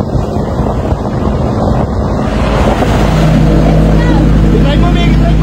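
A motorboat roars at speed with loud wind buffeting the microphone and water rushing past; excited voices shout over the engine.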